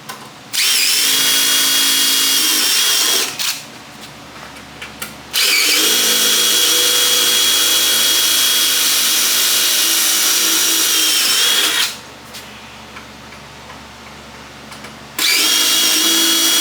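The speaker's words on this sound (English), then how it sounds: "drill out the centers" A power drill whines loudly in three long bursts while drilling out the centers on a Z28 rear bumper, with short quieter pauses between runs.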